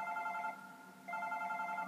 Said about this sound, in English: Oh wait, that is my phone.